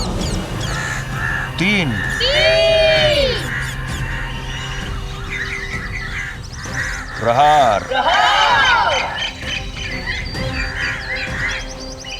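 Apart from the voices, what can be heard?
birds crying out as they fly away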